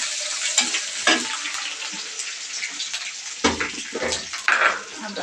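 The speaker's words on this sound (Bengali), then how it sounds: "আদা বাটা ডিপে ছিল তো ছিটতেছে প্রচুর পরিমাণে" Ginger paste fried with onions in hot oil, spattering heavily with a dense, steady sizzle and crackle, broken by sharper pops and stirring scrapes, close and continuous.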